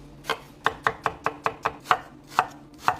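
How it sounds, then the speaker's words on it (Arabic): A knife chops onion into small cubes on a board, about ten crisp, close taps in an uneven rhythm, with no voices. "البصل مكعبات صغيره"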